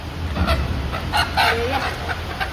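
A village hen clucks in short, repeated calls close by, over a continuous low rumble of background noise, with no speech alongside.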